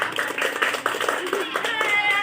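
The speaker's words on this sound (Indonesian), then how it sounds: "Kita beri tepuk tangan ya." Classroom clapping as students applaud a classmate chosen for a school competition, a brief burst of quick, uneven hand claps from a small group, moderately loud and close.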